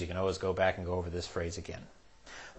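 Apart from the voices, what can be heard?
None of the usual background noises is heard.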